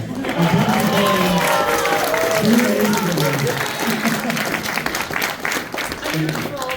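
A pony expo convention audience gives a round of applause mixed with cheering, loud and continuous, while voices talk and call out over the clapping.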